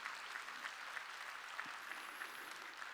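A church congregation claps together at a Sunday worship service, a steady even patter of many hands, faint and distant, lasting the whole moment.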